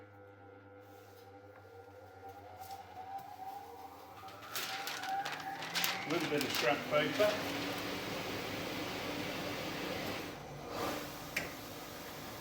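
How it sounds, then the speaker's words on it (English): A vacuum table's suction motor spins up with a rising whine that settles into a steady hum, while a person talks and paper rustles nearby. "So I'm going to put the vacuum on now. Hopefully that won't be too noisy."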